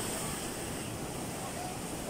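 Ocean surf breaks at the Cloud 9 surf spot on Siargao Island, a steady, dense roar of churning waves with wind across the microphone, continuous and fairly distant.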